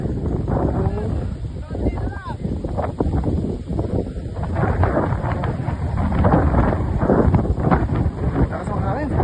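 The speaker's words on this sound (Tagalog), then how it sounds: "Lakas ang hangin." Strong wind gusting across the top of Mount Tapyas in Coron, Palawan, roaring steadily into the microphone for the whole stretch, with people talking beneath it.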